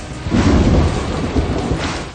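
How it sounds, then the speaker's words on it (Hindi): Heavy rain pouring over a city with rolling thunder, a loud, steady wash of downpour carrying deep rumbles throughout, with no voices. "शहर के मुख्तलिफ इलाकों में मौसलाधार बारिश होने से"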